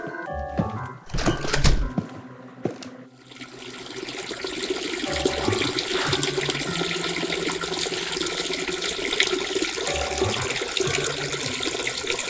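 A stream of liquid splashes into a toilet bowl for an animated character, a continuous close trickling and splashing that runs for most of the clip after a few knocks and clunks, with no voices.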